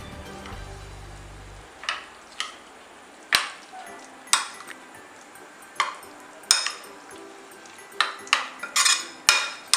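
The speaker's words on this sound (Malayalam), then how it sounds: "ഇതെല്ലാം ചേർത്ത് നമുക്കൊന്ന് മിക്സ് ചെയ്യാം." Chicken being mixed with marinade masala in a bowl, heard as a series of sharp, close clinks and taps of a utensil against the bowl, irregular and sparse at first and then quicker and denser.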